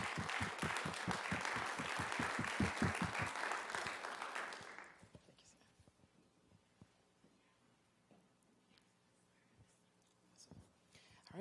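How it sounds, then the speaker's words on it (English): A round of applause from the audience at a National Teach Ag Day live event, thick and steady clapping for about five seconds before it stops abruptly, leaving a quiet room with faint rustles. "Let's give them a round of applause."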